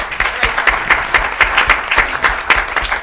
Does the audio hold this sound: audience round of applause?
yes